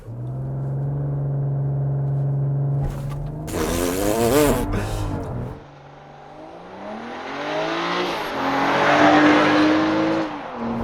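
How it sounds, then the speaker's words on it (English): A 2023 BMW X7 SUV launches hard in sport mode, its engine droning steadily before a loud surge of revving and acceleration with tire noise, then climbing again through the gears as the SUV pulls away. "That is a really good launch for not having official launch control."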